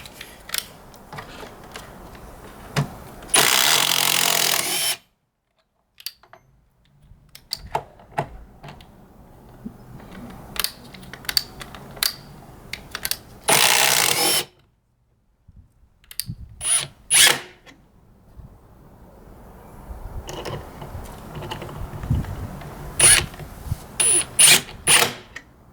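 Metabo HPT Triple Hammer and Milwaukee Fuel Gen 1 impact drivers run in two loud, harsh hammering bursts about ten seconds apart, with lighter mechanical clicks, clatter and handling noise scattered between and after.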